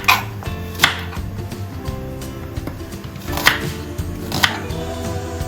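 Knife chopping whole onions into coarse, thick pieces on a board: irregular sharp cuts, near and clear, with a few louder strokes and no talk.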